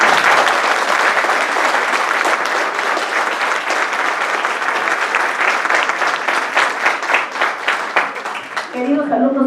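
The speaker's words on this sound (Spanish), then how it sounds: "Voy a pedirles que ese aplauso a nuestros ponentes el día de hoy se haga con" A school assembly audience of students and teachers applauds its speakers with sustained, energetic clapping that stays loud and dense for about nine seconds before tapering, with voices briefly emerging at the end.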